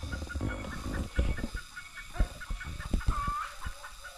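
Wild chickens clucking in a rural yard, a series of short repeated clucks at moderate distance over an outdoor background, with one brief higher squawk near the end.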